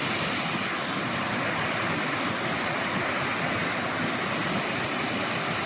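Steady rushing water from a waterfall and stream in Shing Mun Valley Park, a dense, unbroken broadband roar close by, with no voices.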